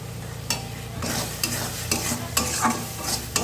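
A spice mix of chili, ground coriander, cumin, turmeric and salt sizzles in oil for a jackfruit curry, a constant close frying hiss with regular spatula scrapes and taps as it is stirred, no talking.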